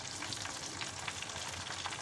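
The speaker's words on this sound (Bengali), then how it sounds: "ভাজার জন্য গরম তেলের মধ্যে আমি এক এক করে ছেড়ে দেব।" Batter-coated chicken popcorn pieces fry in hot oil over a medium-low flame, a dense, even crackling sizzle with small bubbling pops, close and continuous, with no voices.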